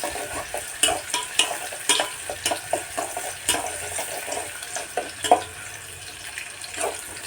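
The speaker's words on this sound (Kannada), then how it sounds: "ಸ್ವಲ್ಪ ಈರುಳ್ಳಿ ಚೆನ್ನಾಗಿ ಕೆಂಪು ಕಲರ್ ಬರೋ ತನಕ ಸ್ವಲ್ಪ ಬೇಯಿಸಿ." Onions fry in a pan for a vegetable stir-fry, a steady soft sizzle broken by irregular scraping clicks from stirring, close and moderately loud, with no talking.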